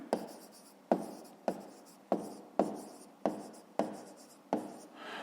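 A pen writes out a math answer on paper in a series of short, regular scratchy strokes, about eight evenly spaced bursts, close and quiet.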